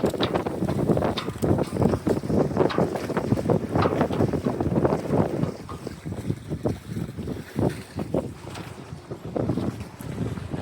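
Wind and water noise on the Columbia River near Astoria aboard a sailboat on a gloomy, windy early-summer day, a steady broadband rush with buffeting wind on the microphone and irregular wave sloshes throughout.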